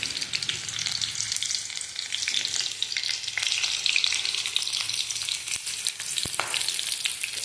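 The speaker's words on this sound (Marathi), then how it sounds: "कांदा लाल होईपर्यंत आपण तो भाजून घ्यायचा आहे" Onion fries in a pan for mushroom bhaji, giving a dense, continuous sizzle with scraping stirring strokes mixed in. It stays close and steady throughout, with no one talking.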